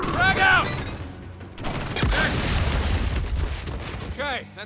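A grenade blast and bursts of gunfire come from a video game firefight, with a heavy boom followed by rattling shots and crackling impacts. Voices speak over the combat at points.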